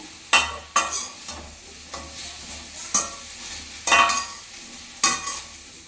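Okra stir-roasting in a dry pan for sambar, a soft steady sizzle punctuated by sharp scraping strokes of a spatula roughly every second, close up and with no voices.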